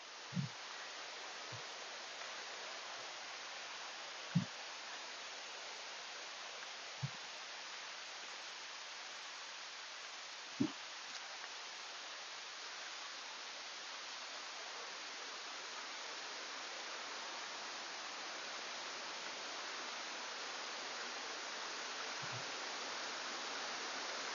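Flowing water at the third tier of Erawan Waterfall rushes in a steady, broad wash, with a few sharp thumps and clicks scattered over it.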